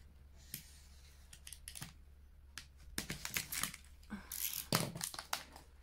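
A utility knife slicing open a sealed, tightly taped parcel, giving sharp scraping cuts and crinkling bursts that come in irregular clusters, with a low hum steady underneath.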